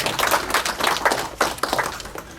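A crowd at a Paris gathering of J3M friends and supporters gives a short burst of scattered clapping, steady and fairly close, with no one speaking over it.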